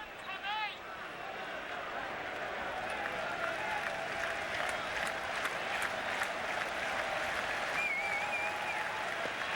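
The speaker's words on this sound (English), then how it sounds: "Crowd roaring on every pitch by Pedro Martinez here in the early going." The baseball crowd at Fenway Park roars and applauds steadily as Pedro Martinez pitches for the Red Sox against the Blue Jays in September 1999, a broad, sustained wash of cheering with a loud swell at the start.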